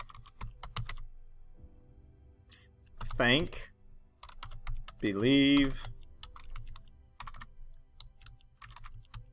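Typing on a computer keyboard, rapid irregular clicks in bursts throughout, close and clear, with a person speaking briefly in between the keystrokes.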